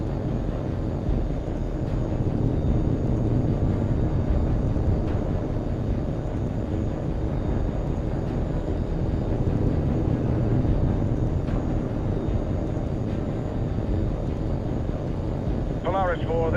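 A jet aircraft in HAWX 2 roars steadily throughout, a dense continuous engine rush at even loudness, with speech mixed in.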